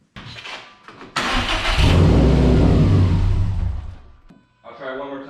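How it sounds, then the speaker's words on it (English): A 2018 Subaru STI is cranked and fails to start after sitting for a couple of hours: a short burst of cranking, then a long, loud roaring stretch that fades out, followed by a brief voice. "We're going to start the car and we're going to let it die off"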